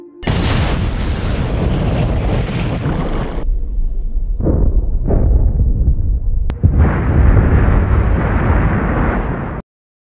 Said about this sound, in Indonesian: mereka melihat militer mulai menjatuhkan bom di area tersebut